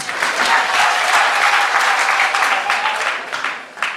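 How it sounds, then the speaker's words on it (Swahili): At a wedding, guests clap for the parents of the bride and groom in a dense, sustained round of applause from a crowd that carries on for several seconds before tapering slightly. "Pigeni wazazi makofi"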